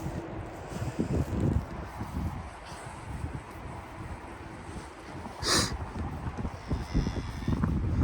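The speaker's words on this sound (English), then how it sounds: "It's windy." Wind gusting outdoors on a farm, buffeting the microphone with a steady low roar and intermittent stronger blasts, with faint rustling and animal movement underneath.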